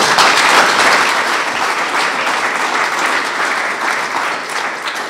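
An audience at an Israel Independence Day commemoration event breaks into sustained, loud applause, a dense steady clapping that gradually eases toward the end.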